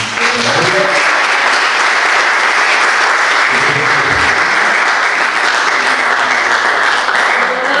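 Loud, steady audience applause at a talk and discussion on prostate cancer, continuous dense clapping filling the room with brief murmurs of voices underneath at the start and midway.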